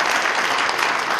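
A hotel banquet hall audience at a New Year prayer breakfast claps together in a dense, even burst of applause that fills the room, loud and continuous with no voices over it.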